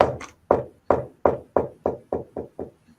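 Ten evenly spaced knocks sound up close, starting strong and gradually fading in loudness, like a hollow thump of a rock rolling on a roof imitated by hand.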